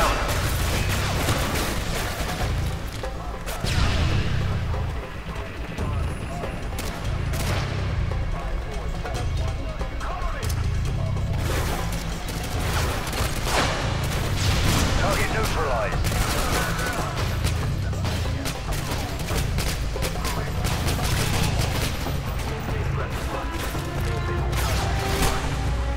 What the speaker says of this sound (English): Here, open fire!